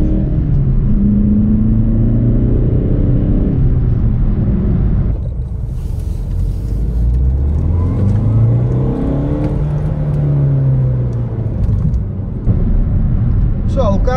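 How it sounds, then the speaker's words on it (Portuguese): Diesel car with around 380 Nm of torque pulling hard through the gears on a road, a loud steady engine roar rising in pitch, dipping briefly at a gear change, then climbing again. "o carro lança-se mesmo muito forte"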